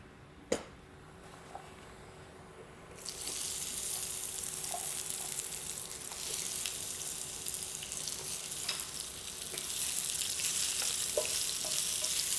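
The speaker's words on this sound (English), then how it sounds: "So we will add the zucchini to our pan along with a little bit of olive oil." Sliced zucchini hits hot olive oil in a pan, a single knock followed by a steady, close sizzle that swells and holds for several seconds, with faint stirring taps.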